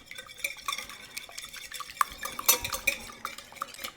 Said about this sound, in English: we're just going to whisk these eggs around